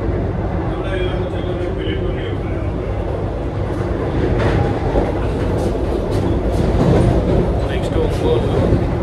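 A Vande Bharat Express train rolls between Vijayawada and Nellore, heard from inside as a steady, fairly loud rumble with faint rail clicks and rattles swelling slightly toward the end.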